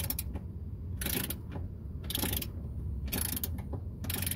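A ratchet loosens bolts on a seat in a 2019 Chevy Express van, giving four distinct bursts of rapid metallic clicking at roughly one-second intervals with quieter pauses between.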